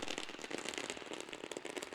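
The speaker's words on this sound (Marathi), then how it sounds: "फटाक्यांची आतिषबाजी" Rapid, dense crackling bursts of firecrackers pop in quick succession at a cricket tournament's opening ceremony, faint and somewhat distant, with no talking.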